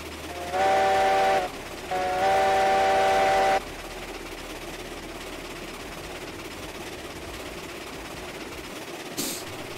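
Wood-burning steam locomotive in the Railroads Online train game sounds two whistle blasts, a short one then a longer one, over a steady chuffing rumble.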